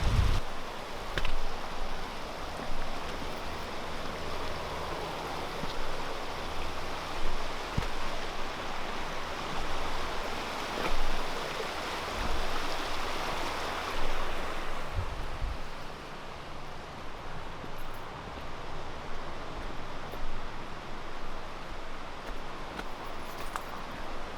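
A river rushes through a gorge in the Washington–Oregon region, a continuous broadband roar of flowing water that stays steady and fairly distant, with a few faint knocks near the microphone.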